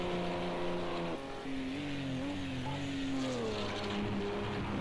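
Audi prototype racer screams through a lap in a Le Mans racing video game, its engine note rising and dropping through gear shifts, steady and moderately quiet.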